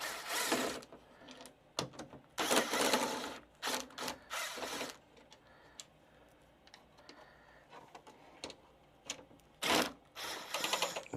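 Screws being backed out of a rain-damaged Sony GTK XB7 party speaker with a powered driver, in short whirring bursts separated by pauses and small clicks, close and fairly quiet.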